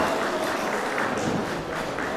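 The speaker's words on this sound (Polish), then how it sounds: "Duże brawa dla kolegi Jędra" Audience applause at an outdoor event for the Małopolska pollarded willow days, a dense, steady wash of many hands clapping close by for about two seconds without talk.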